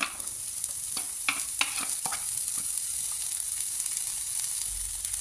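Garlic and green beans sauté in a pan, a bright steady sizzle with a quick cluster of spatula scrapes and clinks early on, then continuous frying alone.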